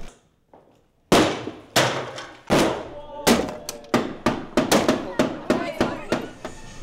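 Wooden furniture being smashed apart with a handheld weapon: a run of sharp, loud cracking blows, first spaced out, then coming faster in a rapid series of impacts with splintering thuds.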